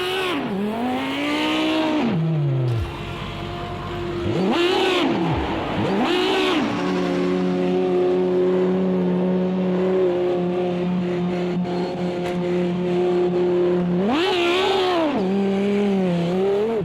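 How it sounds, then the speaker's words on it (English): Race cars in Project Cars 2 roar past at Eau Rouge on the Spa circuit, engines revving loud and near with rising and falling pitch sweeps as several cars fly by in succession over a steady engine drone. "look down that incredible Eau Rouge, watch the cars fly past"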